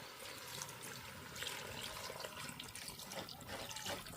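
Water pours into a cooking pot of spiced potato curry in a soft, steady trickle that sounds quiet and close, with no talking over it.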